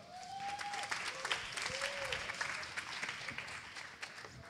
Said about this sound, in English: a big applause for B-Cycling